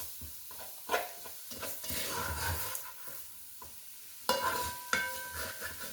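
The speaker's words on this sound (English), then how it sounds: "I'm just going to stir that all up as I'm browning my hamburger." Hamburger meat browning in a pan for chili, stirred with irregular scraping knocks over a low sizzle, close and fairly quiet, with a few sharper clatters near the end.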